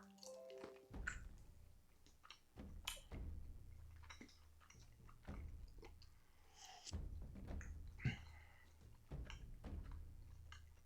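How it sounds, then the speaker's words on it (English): A person chewing a mouthful of sugary jelly beans close to the microphone, wet sticky squishes and smacks in irregular bursts with brief pauses, no talk. "This is so much chewing. There's so much chewing."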